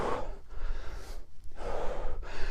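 Heavy breathing from a cardio workout exercise, with a few audible gasping exhales and inhales in a steady rhythm, close and moderately loud, no talking.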